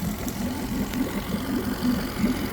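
A 2021 Yamaha F9.9 outboard engine runs steadily on a tank with non-ethanol gas, a low, even idle with a faint rhythmic pulse, close and alone.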